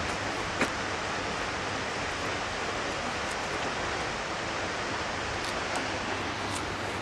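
Steady broadband roar of an Icelandic waterfall, continuous and fairly close, with a few faint brief clicks and no clear voices.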